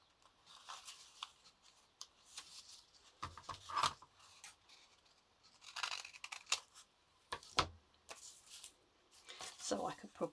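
Scissors snip through sheets of paper being cut in half for mini junk-journal notebooks, a series of quiet, close crisp cuts and rustles in irregular bursts.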